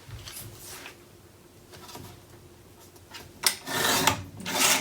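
Paper being trimmed while crafting a Graphic 45 Joy to the World project, heard as soft rubbing and scraping strokes close by, with two louder slicing bursts near the end and no talking.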